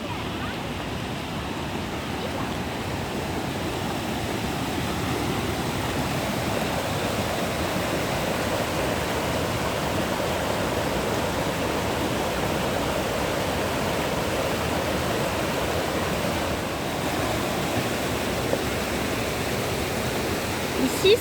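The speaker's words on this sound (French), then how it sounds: "Petite cascade au milieu de la forêt, très jolie." A small waterfall in a forest on Cerro López in Patagonia gives a steady, unbroken rush of falling water that holds the same even level throughout, with no other sound standing out.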